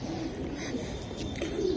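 A male racing pigeon coos in low, soft, repeated murmurs close by, alone without talk, over a faint steady background.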